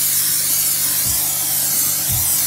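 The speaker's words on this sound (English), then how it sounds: "Before I toast them, I spray them a little bit with the butter spray." Butter spray misted onto hamburger buns before toasting, a loud continuous close hiss with a couple of brief low bumps as the can or buns shift.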